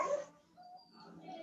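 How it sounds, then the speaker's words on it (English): A dog whimpers and yelps in a short, fairly faint burst, thin whining tones trailing off into quiet room noise. "Who has got a dog?"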